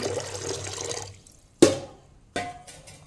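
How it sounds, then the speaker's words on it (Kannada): Water poured into a pot of soaked peas, a close splashing pour that stops, followed by two brief sharp clatters of the vessel. "ಇದು ಬೇಯಲಿಕ್ಕೆ ಬೇಕಾಗುವಷ್ಟು ನೀರನ್ನು ಹಾಕ್ತೇನೆ"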